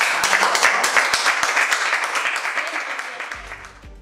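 Applause for a poem, a crowd clapping steadily and fairly close, fading gradually toward the end, where a voice comes in.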